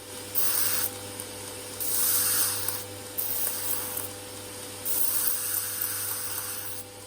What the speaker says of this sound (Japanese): ノコギリで切るとバリが出るので削ってバリを取ります。